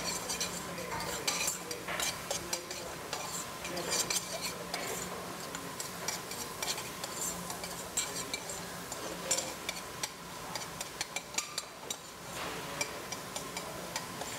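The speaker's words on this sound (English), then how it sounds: "we're just going to saute this a little bit until it's aromatic" Aromatics sauté in a pan as a utensil stirs them, giving a soft steady sizzle with frequent light clinks and scrapes of metal on the pan, close by and moderately quiet.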